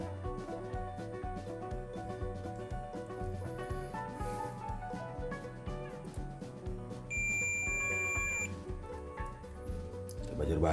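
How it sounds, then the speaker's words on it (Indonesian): An electronic buzzer on an Acer Switch One 10 laptop board under repair, with no display, gives a steady high-pitched beep of a second or so over a busy, cluttered background with a voice present. "Buzzer loh."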